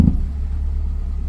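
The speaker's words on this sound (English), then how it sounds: "The exhaust is rattling on the floor" A Brazilian car engine runs close by with its exhaust rattling against the floor, heard as a short, steady, low idling rumble with a slight throbbing pulse.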